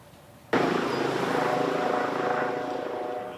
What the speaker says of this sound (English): A helicopter searched the area near a ski resort in the northern part of the country.